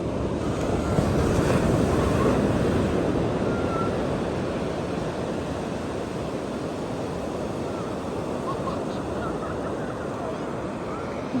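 Ocean surf washes steadily onto a beach at a seaside outing, a continuous broadband roar with heavy wind noise buffeting the microphone throughout.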